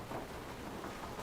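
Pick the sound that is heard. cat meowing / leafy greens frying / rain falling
rain falling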